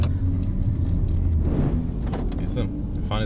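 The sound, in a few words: BMW E61 M5 car driving off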